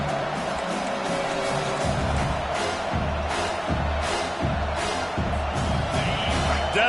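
Football stadium crowd roaring steadily for the defense on third down, a dense, loud wash of cheering that swells in bursts, with an announcer talking over it.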